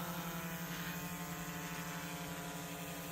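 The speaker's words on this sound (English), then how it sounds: "So Kent is learning how to use his new drone" A small camera drone hovers overhead above sand dunes near Green River, giving a steady, continuous propeller buzz with a constant hum throughout, moderately faint and with no talk.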